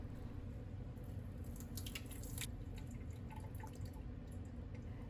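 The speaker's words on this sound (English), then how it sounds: "Push any floating at the top to the bottom of the container and drain." Water draining from a secondary container of feeding animals, a steady wash of trickling and dripping liquid running continuously at close range with a few brighter splashes.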